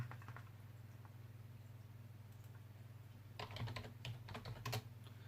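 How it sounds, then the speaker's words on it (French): Typing on a computer keyboard while searching for Korean Pokémon cards, with bursts of clicky keystrokes that get busier toward the end, heard over a steady low electrical hum. "Si je tape prisme."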